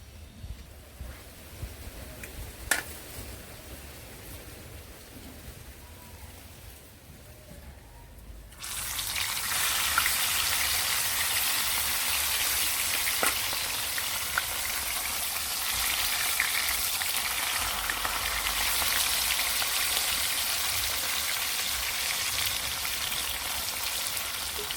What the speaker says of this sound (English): fish are fry up here now